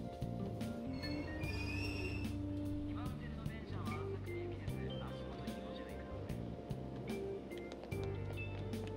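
Train ride in the Persona 5 video game: rhythmic clacking and rumbling with squealing tones and steady beeping blips, a continuous mechanical bed of sound.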